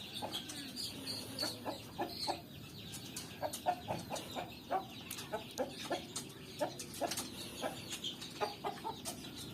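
Free-range village chickens in a rural yard, with a rooster among them, cluck steadily in repeated short calls, some near and loud, others farther off, over a constant outdoor background.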